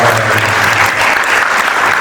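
A large audience at a spiritual gathering in Kanyakumari applauds, a loud, dense, continuous wash of clapping filling the whole moment.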